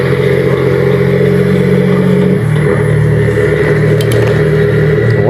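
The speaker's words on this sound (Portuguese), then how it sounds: "O caminhão só com 13 toneladas tá morrendo pra subir aqui." A 13-tonne truck climbing a steep hill with active brake fade, its engine droning loud and strained, dropping in pitch midway as it labours under load.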